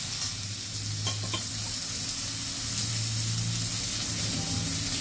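Potatoes frying in oil with salt and turmeric for a rohu fish curry, giving a steady, close sizzle that holds even and unbroken throughout, with a few faint clinks of utensils and a low background hum.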